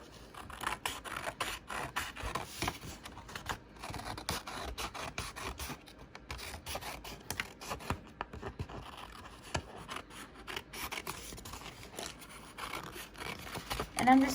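Scissors snipping through paper while cutting out a paper snowman craft, close and quiet, with repeated crisp cutting strokes and rustling of the sheet.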